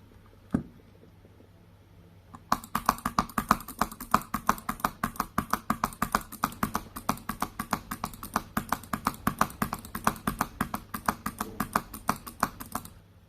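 Rapid two-finger mouse clicking for high click speed, a dense fast run of sharp close clicks starting after a single early tap and continuing steadily for about ten seconds.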